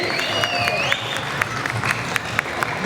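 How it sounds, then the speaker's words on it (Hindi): Audience applause at a mall promotion for the film "Dal Chawal" in Amanah Mall, a steady broadband wash of clapping from a crowd with sharp individual claps, a faint whistle and voices mixed in throughout. "तो प्लीज एक बार जोरदार तालियां सलमान शाही साहब के लिए।"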